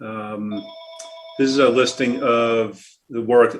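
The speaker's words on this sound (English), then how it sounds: "Pardon the phone in the background." A telephone rings in the background of a school district capital planning subcommittee meeting, its electronic ringing tones sounding between and under a man's speech nearby.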